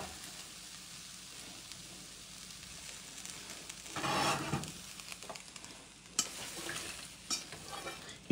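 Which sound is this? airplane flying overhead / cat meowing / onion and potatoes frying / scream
onion and potatoes frying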